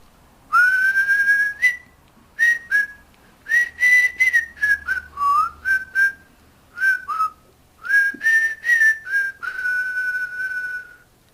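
Someone whistles a lilting tune close up, in a series of short phrases with brief pauses between them, clear and unaccompanied.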